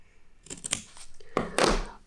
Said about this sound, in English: use a nice sharp pair of scissors, cut up to that point